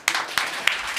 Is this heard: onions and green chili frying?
no